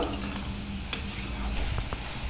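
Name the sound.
spinach leaves added to a hot pan, sizzling and stirring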